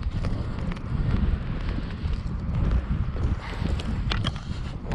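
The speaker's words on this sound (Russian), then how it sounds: "Ветер сильный дует." Strong wind buffets the microphone with a constant low roar and rumble while fishing for carp and crucian carp in mid-October, loud and unbroken for the whole stretch.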